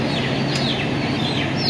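Chickens clucking steadily during a flock vaccination, a dense, busy chorus of birds close by with a constant background murmur. Nobody speaks.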